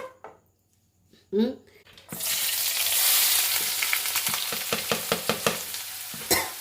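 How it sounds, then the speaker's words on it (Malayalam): Finely chopped ginger and garlic dropped into hot oil for a ginger curry pickle: after a quiet opening with a brief sound, a loud sudden sizzle erupts and continues close, punctuated by rhythmic stirring clinks against the pan. "അതും കൊത്തി അരിഞ്ഞ് വെളുത്തുള്ളിയും കൂടെ നമുക്ക് ഈ എണ്ണ ചൂടാകുമ്പോൾ ഇട്ട് കൊടുക്കാം"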